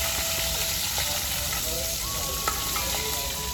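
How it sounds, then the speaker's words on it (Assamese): Fish fries in a hot pan with a continuous crackling sizzle, steady and close, with a faint tone and a few small clinks in the background. "এইফালে আমাৰ মাছ ফ্ৰাই হৈ আছে"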